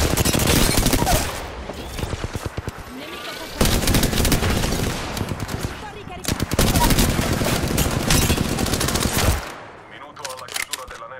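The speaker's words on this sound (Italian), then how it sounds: "Mi stanno sparando." Heavy automatic gunfire in the video game Apex Legends, near and loud, with long continuous bursts of rapid shots broken by brief pauses and a sudden stop near the end.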